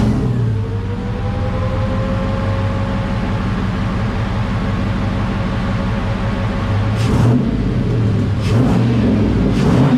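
An LS-swapped Pontiac Firebird engine revs hard and close during a throttle test, a loud steady roar with rising pitch, then a few sharp blips of the throttle near the end.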